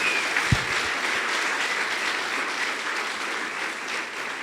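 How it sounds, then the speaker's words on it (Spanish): A congregation applauds during a Spanish-language church service, a steady wash of many hands clapping together at moderate loudness throughout, with no voices over it. "Alguien tiene que darle un aplauso fuerte al Señor en esta hora."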